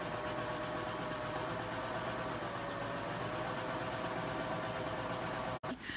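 Babylock serger fitted with a curve foot stitching fabric, a steady, fast mechanical whir that runs evenly and close, then stops abruptly near the end.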